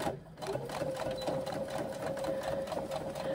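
A sewing machine runs steadily through a garment's final side seam, its fast, even stitching rhythm close and continuous with a faint steady whine throughout.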